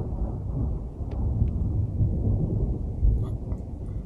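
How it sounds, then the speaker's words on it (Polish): Thunder rumbles through a mountain setting near a rock shelter ahead of rain: a low, rolling, continuous roar with a few faint crackles, heard alone and moderately loud. "Z tyłu pioruny."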